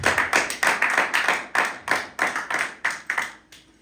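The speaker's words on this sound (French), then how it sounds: "Est-ce qu'on peut acclamer pour la parole de Dieu?" A church congregation claps together in steady, rhythmic unison during a special worship service, about a dozen loud, evenly spaced beats close by, with no speech.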